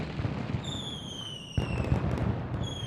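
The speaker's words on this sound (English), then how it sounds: "So here's another little fireworks show to end the episode on." Fireworks show in the Rise of Industry video game: whistling rockets rise over a continuous crackle, with a burst of louder popping midway, steady and moderately quiet.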